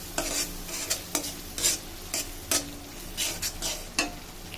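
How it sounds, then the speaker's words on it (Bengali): A spice paste of cumin, black pepper and turmeric for mustard hilsa is stir-fried in a pan, with brisk, close scrapes of the spoon in an irregular rhythm over a faint, steady sizzle. "ভালো করে কিছুক্ষণ মশলাটাকে কষিয়ে নেব"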